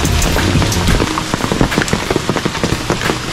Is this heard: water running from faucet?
no